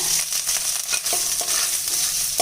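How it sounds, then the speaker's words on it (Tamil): Grated coconut frying in ghee left over from roasting cashews for Chettinad Rangoon puttu, a steady close sizzle with soft scraping stirs repeating every half second or so. "முந்திரி வறுத்த நெய்லேயே கொஞ்சம் தேங்காய் துருவல் சேர்த்துக்கலாங்க."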